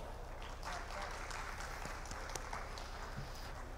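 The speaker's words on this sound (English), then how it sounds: "please have a big round of applause." Audience applause at the closing ceremony of the 16th Bangladesh Denim Expo, a steady wash of clapping from a large crowd with a faint murmur of voices underneath.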